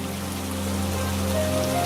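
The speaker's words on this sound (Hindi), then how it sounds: "देखते ही देखते तेज बारिश हो जाती है" Heavy rain pours steadily in an animated Hindi folk tale scene, a dense constant hiss with a low rumbling bed and no voices, lasting a couple of seconds.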